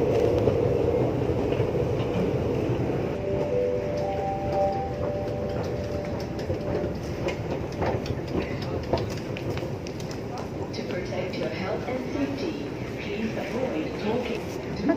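A Singapore Downtown Line MRT train runs with a steady, rushing rumble and faint rail clatter, heard from inside or close by for the whole stretch, with a few brief tonal squeals mixed in.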